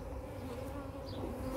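Honey bees hover in the air around a UK beekeeper's hive, giving a steady, continuous buzzing drone that stays close and even throughout, with no talking.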